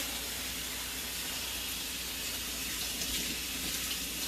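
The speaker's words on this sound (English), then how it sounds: "And so I'm actually going to turn on the water." A kitchen water tap runs steadily through the whole stretch, a constant close-up hiss and splash of water while tomatoes are being rinsed, with no talking.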